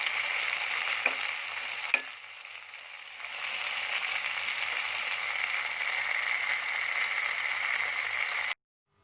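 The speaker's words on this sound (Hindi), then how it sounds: "मटन को मैं तेज़ आंच पर उस वक्त तक पकाऊंगी जब तक कि टमाटरों का पानी नहीं खुश्क हो जाता" Mutton karahi with tomatoes cooks over high heat in a wok, a steady loud frying hiss with a couple of sharp utensil knocks early on, alone without voices, cutting off abruptly near the end.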